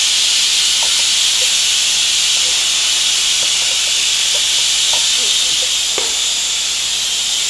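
Tender tamarind leaves frying in a pan for mutton curry, a steady loud hiss of sizzling oil with faint scattered pops and crackles throughout.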